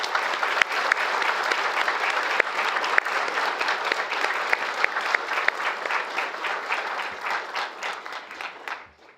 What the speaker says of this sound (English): Please join me in a big round of applause for our team.